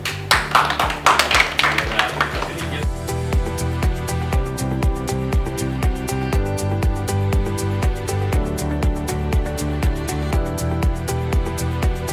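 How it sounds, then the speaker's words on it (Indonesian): A group at a corporate training session claps in a steady, rhythmic pattern, loud and close, with some voices mixed in over the repeated beat. "Kita mau buka dengan tepuk dulu."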